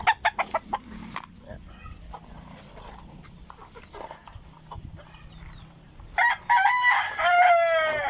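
Backyard chickens cluck in a quick series of close calls, followed by softer fowl sounds and then a loud rooster crow near the end, at feeding time.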